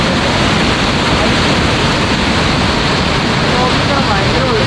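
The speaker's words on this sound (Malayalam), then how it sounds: "ശരി വെള്ളം കലക്കുന്നുണ്ട്. 2 ദിവസം മഴ ആയതുകൊണ്ട്" A swollen, muddy stream in the Nilgiris near Bitherkad, running high after two days of rain, rushes past nearby in a loud, constant, roaring wash of water.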